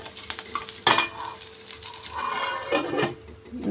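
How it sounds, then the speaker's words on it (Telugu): Curry leaf sprigs crackle and spit in hot oil for coconut chutney, a busy close sizzle with a few louder bursts and clatters of stirring. "కరివేపాకు కూడా దీంట్లోనే మంచిగా గోలించుకోవాలండి"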